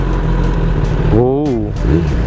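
A modified Kawasaki Ninja ZX10R 1000 cc motorcycle on a test ride, its engine droning loud and close with a short rising-and-falling rev, while someone talks over it.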